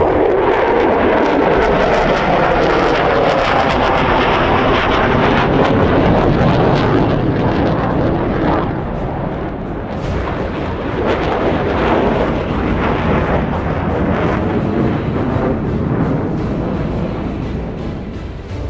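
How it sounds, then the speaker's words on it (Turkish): An F-16 jet roars steadily during an aerobatic display in the DCS flight simulator, a loud continuous engine rumble that dips slightly partway through. "F-16 jeti ters pozisyonda en fazla 30 saniye uçabilir."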